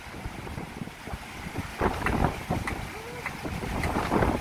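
Strong gusty wind blows by the sea with waves before a typhoon, a rough roaring rush buffeting close to the microphone and swelling in the second half, with faint voices in the background.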